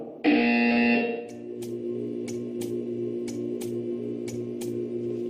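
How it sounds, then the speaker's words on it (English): A harsh, loud buzzer in Portal 2 blares for about a second, then a low hum continues with faint, evenly spaced ticking clicks. "When you hear the buzzer, stare at the art."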